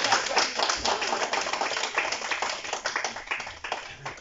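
An audience applauds Maximilien at a university health-system certificate ceremony in Caen, a dense steady patter of many hands clapping continuously with no voices over it.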